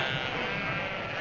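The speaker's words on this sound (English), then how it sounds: "Get those sheep out of here!" Sheep bleat across a country road in a steady, dense chorus of overlapping calls, fairly loud and continuous, with no clear talk over it.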